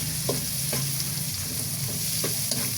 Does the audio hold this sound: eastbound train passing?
no